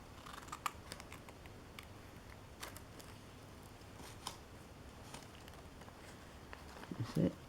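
Fabric being cut with scissors for a cushion flower design, faint soft snips and rustles spread across a quiet room, with a slightly louder cluster of handling noise near the end.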